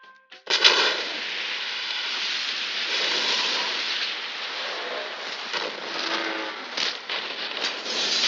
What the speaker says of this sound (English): Starting with Heath Ledger's explosion scene in Dark Knight